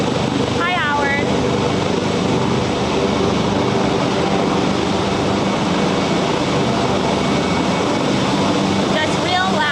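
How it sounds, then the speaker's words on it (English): Loud, continuous helicopter rotor drone and engine roar filling the whole stretch, steady and close overhead by the Hudson River in Manhattan, with wind and a few faint chirps beneath it. "maybe I'll talk once we're past the helicopter."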